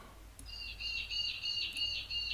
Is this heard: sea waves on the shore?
no